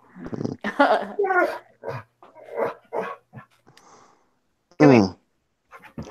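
A dog barks and whimpers in short bursts, with one louder bark standing out, among people talking nearby in a home.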